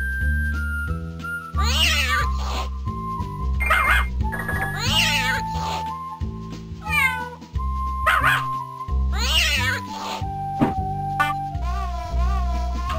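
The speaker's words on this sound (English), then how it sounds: "How about this wacky cat?" A cartoon cat in the game Putt-Putt Enters the Race meows and yowls in a string of exaggerated, wavering cries over bouncy background music, clear and up front with no talking.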